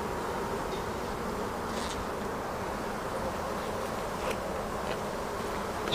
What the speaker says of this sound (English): You can see the bees there with the pollen all over their legs.